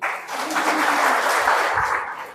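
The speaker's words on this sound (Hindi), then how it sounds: "ताली तो बजाओ।" Audience at a Brahma Kumaris spiritual talk in Nagaon, Assam, breaks into a short, dense burst of applause that swells and fades.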